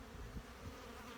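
Honey bees buzz at their hives in a steady, low, continuous drone, faint and without voices, lasting just over a second.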